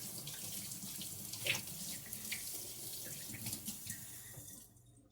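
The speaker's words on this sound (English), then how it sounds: "I'm gonna wash my hands again." Water runs steadily from a kitchen tap while hands are washed under it during bread-dough making, with splashing changes in the flow before the tap shuts off near the end.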